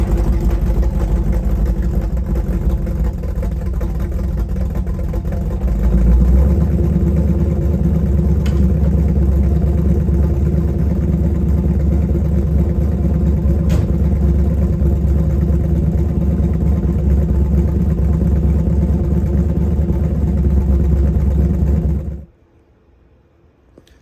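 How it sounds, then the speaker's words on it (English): A freshly installed 350 small block V8 in a 1955 Chevy truck runs at a steady, loud idle. The engine note deepens slightly partway through, then it cuts off abruptly near the end, leaving near silence. "We got the engine started this morning"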